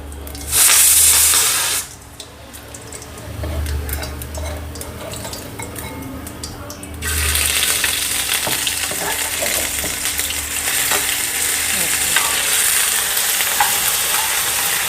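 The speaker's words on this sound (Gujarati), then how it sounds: "પછી આદુ લસણ નાખી દેવાનું, શેકી નાખવાનું." Ginger and garlic dropped into a pan of roasted gram flour and fried, a loud burst of hissing followed by a continuous close sizzle with scattered spoon scrapes and clinks, no talking.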